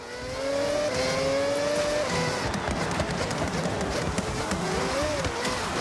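Mazda 787B race car in the Forza Horizon 6 racing game, set up as an all-wheel-drive rally build, launching hard and accelerating. Its loud, steady engine note climbs through the gears, with a brief tire squeal, and no talk over it.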